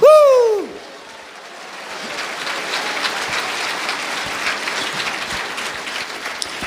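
A church congregation bursts into loud, sustained applause that fills the room after a brief sung or shouted opening note, with the clapping holding steady to the end.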